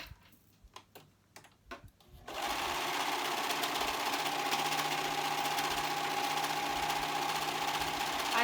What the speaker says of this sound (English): your zigzag stitch on your machine, or a stretch stitch, or a serger